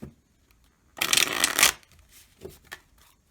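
Tarot cards being shuffled: a dense burst of rapid riffling for about three quarters of a second, then a few softer card taps and slides close by, with no talking.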